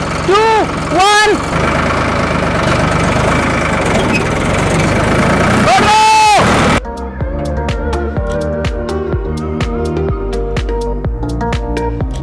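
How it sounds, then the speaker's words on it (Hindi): A tractor engine runs steadily and loudly while towing a giant homemade kite outdoors, with whistling pitch swoops over the rumble, before a cut to music. "गाइस ट्रैक्टर से खींचेंगे इस बार इसको"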